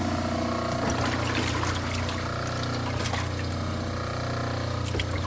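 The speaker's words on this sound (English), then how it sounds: "I'm just going to rinse this again." Running water rinses an orthodontic model, a steady close splashing and trickling flow that continues throughout with no talk.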